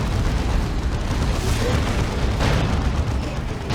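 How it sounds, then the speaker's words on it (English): A Demolisher cannon shell from a Leman Russ tank bursts in a Warhammer 40,000 strategy game battle, a dense, sustained rumbling blast that fills the clip with no clear onset, layered over battlefield noise. "Juicy Demolisher Cannon there onto the Bulgrins"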